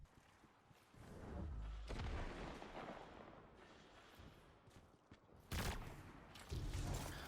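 Bursts of gunfire in a Destiny Crucible match, a loud volley early on, then quieter shots and two more sharp, heavy bursts near the end.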